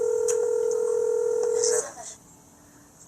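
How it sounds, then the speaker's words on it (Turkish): A steady electronic phone tone rings in the horror video game Evil Inside, then cuts off abruptly, leaving a quieter background hum. "Telefon çalıyor."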